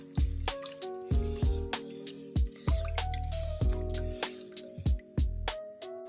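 Collard green broth coming to a light boil in a pot, with a series of distinct wet bubbling pops and drips in a loose, irregular rhythm, close and clear.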